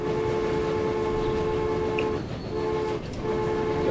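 Trains run in a transport video game, a steady mechanical rolling rumble with sustained tonal hum, continuous and moderately loud, with a brief dip near the end.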